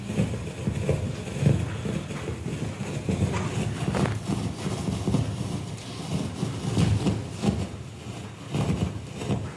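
Muffled rhythmic hoofbeats of a horse moving over soft arena ground during a riding clinic, steady thuds under a noisy background.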